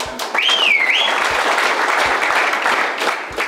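Audience applause at a grand felicitation for a retired army officer after 30 years of service, a steady wash of many hands clapping that swells quickly and holds loud for several seconds, with a brief whistle-like tone near the start.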